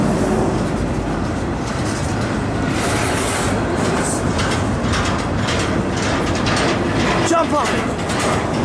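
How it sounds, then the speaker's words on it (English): A Norfolk Southern intermodal freight train rolls past during a snowstorm, a loud continuous rumble of wheels and cars with rhythmic clatter and a brief squeal near the end, steady and close. "that's the South Intermodal train"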